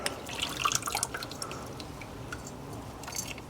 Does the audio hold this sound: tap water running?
yes